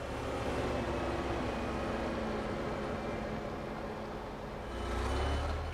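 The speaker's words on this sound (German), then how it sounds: "Der zweite Kran erreicht die Pappenburger Dockschleuse." A heavy five-axle mobile crane truck rolls up to the Papenburg dock lock, a loud, continuous diesel rumble with a faint high whine over it and a deeper surge of engine near the end.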